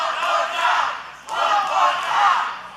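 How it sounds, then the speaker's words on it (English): Wrestling crowd at a live event chanting "one more time" in unison, two loud rhythmic swells of massed voices rising and falling, close and filling the space. "The crowd with those fingers up in the air saying one more time"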